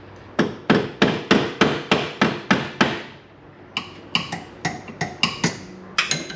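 A screwdriver punch is hammered into a split while a steering rack comes off a 2014 Can-Am Maverick Max 1000, giving a steady run of sharp metallic strikes, then a short pause and a second, lighter series of close, evenly spaced blows.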